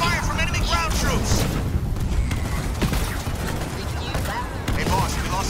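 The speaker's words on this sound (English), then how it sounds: "Cyclops under fire from enemy ground troops!" Halo Wars 2 battle with ground troops attacking a Cyclops walker: dense, continuous gunfire and booming explosions fill the clip, with radio-style unit voices speaking over the din.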